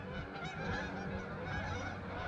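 Many geese, a flock of around two hundred migrating south above a trail, keep up a constant clamor of overlapping honks, fairly distant and unbroken.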